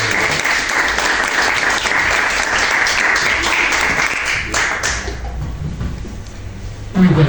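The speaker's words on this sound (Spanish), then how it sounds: "pido un fuerte aplauso para Mauro" Audience applause at a talk on ethnoliterature, loud continuous clapping for about five seconds that thins and fades, followed by a quieter stretch and a brief knock near the end.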